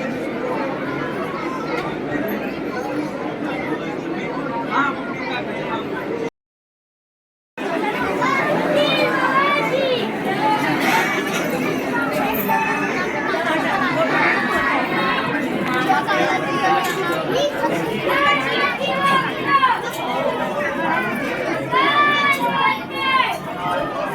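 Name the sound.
crowd chatter at Siddhivinayak temple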